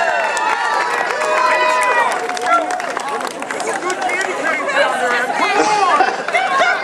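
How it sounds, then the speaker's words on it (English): A crowd at the Christmas Clearing House Peanut Push event cheers participants on, loud overlapping shouts, whoops and chatter swelling and falling throughout, with individual voices calling out encouragement. "And now just cheer these people on for participating"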